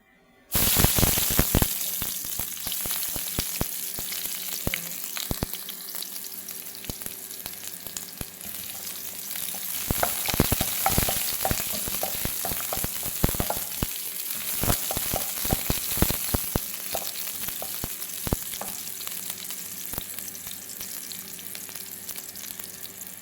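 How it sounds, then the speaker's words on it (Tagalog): Olive oil sizzles and fries steadily in a heated pan at the start of cooking pinakbet, a continuous close hiss with frequent crackles and pops and no talking. "Nagpainit na ako ng kawali and then nilagyan ko ng 3 tablespoons ng olive oil"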